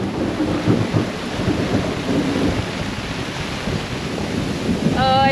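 A thunderstorm with rain at sea, heard from aboard a boat: steady broadband rain and wind wash with low rumbling thunder throughout, fairly loud and continuous, no voices.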